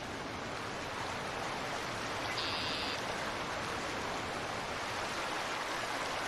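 Steady, dense rushing water of a video-game waterfall fills the whole stretch, a loud continuous roar with no let-up.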